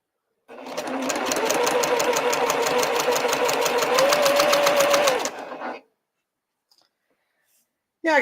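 A sewing machine stitches quilt pieces together in one steady, close, rapid run of about five seconds, then stops abruptly into near silence.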